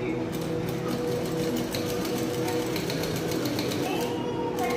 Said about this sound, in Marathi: सरळ कापडावरती अस्तर ठेवायचं आणि हे गोल गळा असतोय तो शिवून घ्यायचा